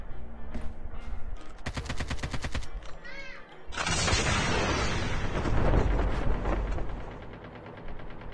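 Gunshots from Call of Duty Mobile battle royale, a rapid rattling burst of shots followed by a long loud roar of sustained fire and blasts close up, with a little speech around it.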